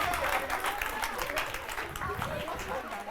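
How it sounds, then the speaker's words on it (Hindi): Studio audience applauding at a televised Hindi talk show about a couple and a self-styled baba, steady dense clapping throughout, fairly distant and even with no clear pauses. "तो तालियां बजाइए"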